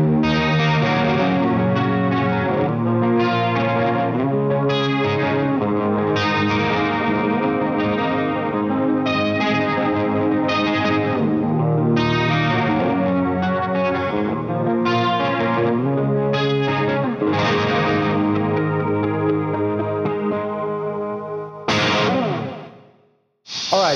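Electric guitar played through a Rocktron Reaction Series chorus pedal, a steady, loud run of shimmering chorused chords and notes with some grit, playing continuously before stopping abruptly near the end.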